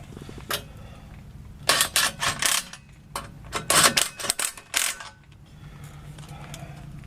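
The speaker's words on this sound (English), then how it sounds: "we're going to tighten these up" Metal clinks and ratcheting clicks from tightening a nut and washer on an RV spare tire carrier, coming in uneven clustered bursts close by, with quiet pauses between.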